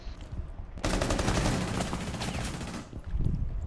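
Rapid automatic gunfire from a Counter-Strike style shooter game rattles in a dense burst lasting about two seconds, bracketed by quieter game noise before and after.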